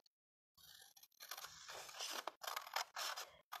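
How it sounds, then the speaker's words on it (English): Scissors snip through a strip of folded paper in a few quick crisp cuts, close and quiet, with a short silence before the first cut. "I'm going to just cut this strip out."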